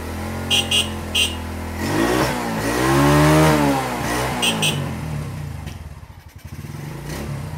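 A motorcycle with Surabaya plates sits idling with a steady, smooth engine note, then revs up in one rising and falling swell before settling back to idle, with a few clicks near the start and middle.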